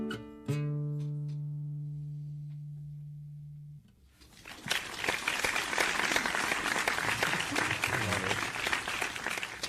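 A sustained electronic tone rings out, then loud studio audience applause breaks in and carries on, steady and dense to the end with no talk.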